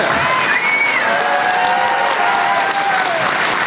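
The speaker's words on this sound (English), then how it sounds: "Well, you can clap. I'd clap about that one." Loud, dense applause with some cheering fills a political convention hall at a state Republican gathering, steady and sustained throughout with a few faint voices and whistles mixed into the crowd noise.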